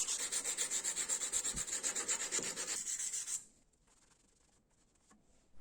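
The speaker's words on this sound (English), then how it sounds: "Blade sanding." Rapid back-and-forth sanding strokes on a small pocket knife blade, a close, steady scratchy rubbing that stops after a few seconds, leaving near silence with faint light handling noises.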